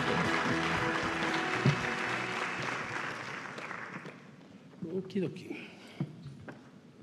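A conference audience at an African food systems meeting applauds an introduced speaker, the clapping strong at first and fading after a few seconds, leaving someone speaking into the microphone.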